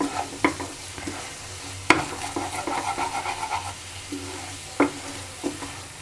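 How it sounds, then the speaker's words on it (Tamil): A radish and egg stir-fry being stirred in a pan, steady sizzling with several sharp scraping knocks of the spatula against the metal, close and alone without any voices. "நல்லா கிண்டி விட்டுக்கோங்க."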